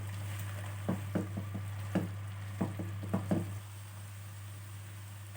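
Grated carrots for gajar halwa roasting in a pan over medium to high heat, a low sizzle with a series of soft knocks and scrapes of stirring, and a steady hum underneath.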